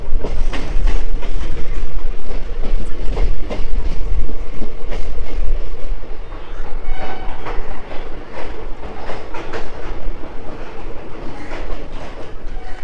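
A loud, steady rumble of an intercity express train rolling on the rails into a station with rhythmic clattering, easing slightly in the second half as it slows.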